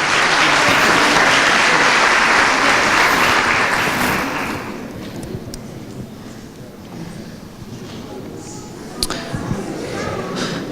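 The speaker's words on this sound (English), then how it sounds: "One more round of applause for the lucky winners." Loud, dense audience applause for prize winners at a language assessment conference in Egypt, steady for about four seconds before fading into quieter room noise with scattered knocks and murmurs.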